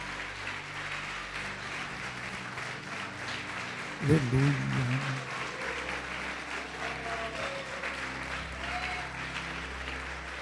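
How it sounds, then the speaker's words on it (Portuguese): A church congregation claps together during a worship service, a continuous wash of applause, with a voice calling out briefly over it partway through. "Vamos aplaudir o Senhor Jesus,"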